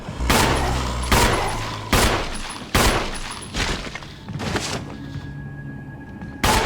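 Gunshots ring out in Resident Evil HD Remaster, about eight sharp, loud cracks spaced roughly a second apart, each followed by a short ringing decay.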